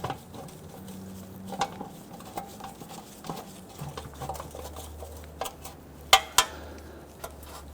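Oil pan bolts being threaded by hand into a 1992-1996 Toyota Camry 2.2L I4 engine, with faint metallic ticks and light scrapes at close range and a few sharper clinks near the end, over a low steady hum.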